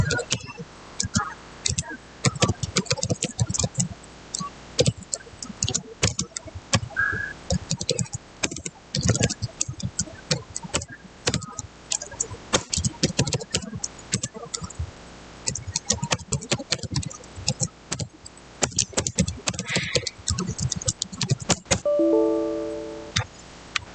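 Computer keyboard keys are typed in quick, irregular bursts of close, crisp clicks that run almost continuously, with a few brief pauses and a short tonal beep near the end.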